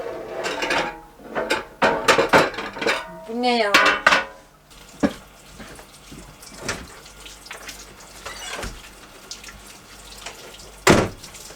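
Dishes and cutlery clatter under a running kitchen tap in a camper van at a night campsite, a busy burst of clinks and splashing water for the first few seconds, then quieter scattered knocks and one sharp clink near the end.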